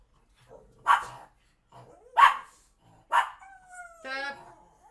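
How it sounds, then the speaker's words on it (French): Three sharp dog barks at roughly one-second intervals, fairly close, followed by a short whiny yawning yelp. "Vous allez entendre mes chiens aboyer."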